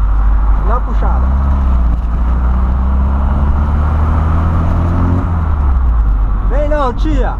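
Volkswagen Voyage AP engine revving up on a city avenue at night, a loud rising drone with a steady low rumble, the pitch climbing then dropping, while people talk and shout nearby.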